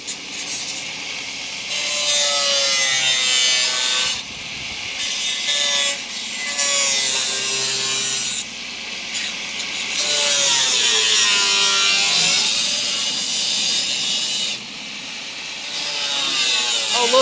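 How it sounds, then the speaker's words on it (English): A cutoff wheel slices through rusty car body metal on an old Charger crew cab, a harsh, loud whining grind in three long bursts separated by short pauses, with pitch wavering as the cut bites. "We got the cutoff wheel again."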